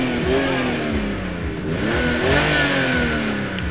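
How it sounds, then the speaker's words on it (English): A circa 1997 BMW 7 Series engine revs up and down close by, its pitch rising and falling in sweeping waves over a steady throaty drone. "this is my car. BMW 7 Series, something like 1997."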